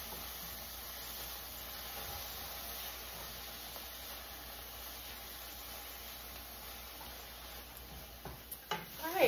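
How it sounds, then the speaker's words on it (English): Onions and a mushroom mixture cooking down in a hot pan give a soft, steady sizzle and hiss. It is faint and stays even, and a few louder clatters come near the end. "As you can hear, I've cooked down, I'm gonna turn the heat off here. I've cooked down the onions and my mushroom mixture."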